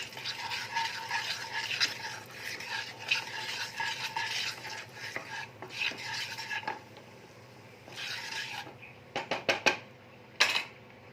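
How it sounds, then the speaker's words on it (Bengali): A spoon stirs chili and turmeric powder through hot oil in a pan, giving continuous scraping and sizzling with bursts of sharper metallic clinks and knocks toward the end, close and fairly loud. "একটু সামান্য লঙ্কার গুঁড়ো, সামান্য হলুদ গুঁড়ো দিয়ে একটু নাড়িয়ে নেব"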